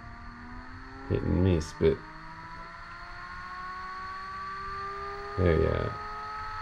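A 10 kW electric motor fitted to a sailing yacht spins up with a thin, steady whine that slowly rises in pitch, while someone speaks briefly in two short bursts over it.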